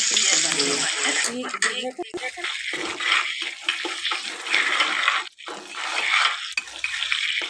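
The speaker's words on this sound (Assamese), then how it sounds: "এতিয়া তেলতে অকণমান সময় মই এয়া ভাজি ল'ম" Food sizzles and crackles in hot oil, loud and close, with stirring and scraping sounds mixed in.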